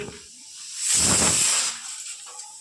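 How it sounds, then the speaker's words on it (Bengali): A pressure cooker boiling chickpeas and peas lets out one loud, close steam hiss lasting under a second. It rises and fades back into a quieter background. "এদিকে বসায় দিছি আমি প্রেশার কুকারে ছোলার মটর"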